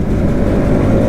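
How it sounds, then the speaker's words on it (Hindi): Bajaj Pulsar NS200 motorcycle engine downshifting on a mountain road, a loud, close, continuous low engine roar with a steady throb and no break across the short moment. "भाई डाउन शिफ्ट क्या प्यारा बजता है आजकल।"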